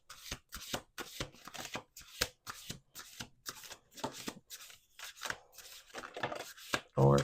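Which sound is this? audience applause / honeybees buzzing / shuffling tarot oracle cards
shuffling tarot oracle cards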